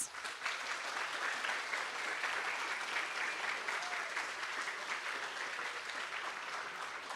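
An audience applauds business plan competition finalists at the close of the presentations, a sustained wash of clapping from a full room that stays even and loud throughout.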